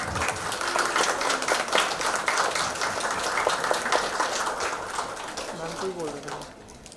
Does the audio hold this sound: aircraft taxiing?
no